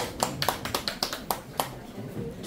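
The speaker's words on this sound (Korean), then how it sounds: "큰 박수 부탁드리겠습니다" Applause at a company opening ceremony, a small group clapping in distinct, fairly sharp and close bursts with a loose rhythm, some faint talk underneath.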